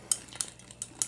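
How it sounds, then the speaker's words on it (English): A tiny whisk stirs honey into finished pineapple mead, giving four light, evenly spaced metallic clinks against the vessel, faint and close. "I have the world's tiniest whisk to mix it up with"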